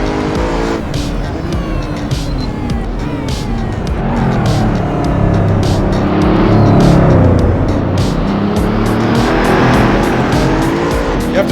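A car accelerates hard around a race track, its engine note climbing and falling through gear changes with tire squeal and a strong, close roar. A voice talks briefly over it.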